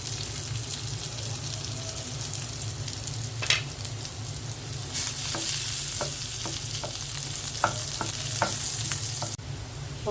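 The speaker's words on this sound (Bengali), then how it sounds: "পেঁয়াজ আর রসুন ভেজে নিচ্ছি। 3টা শুকনো মরিচ দিয়ে দিলাম" Onion, garlic, dried chillies and nigella seeds fry in a pan with a constant close sizzle, broken by a series of scraping stirs and clinks.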